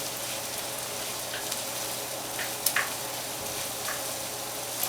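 Rice sautéing in plenty of oil for a seafood paella, a steady soft sizzle with faint crackles and a few light stirring scrapes, close and continuous with no talking.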